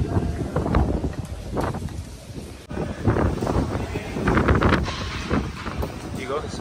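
A strong cyclone wind blows near a beach road. It gusts and buffets in a loud, continuous roar with heavy rumbling bursts, and a voice can be heard talking underneath.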